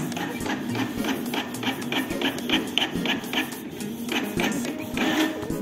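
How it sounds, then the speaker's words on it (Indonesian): A printer prints a page with a rapid run of sharp mechanical clicks and clacks over a whirring feed, fairly close and moderately quiet, with faint background sound. "Nah, printnya udah berbunyi."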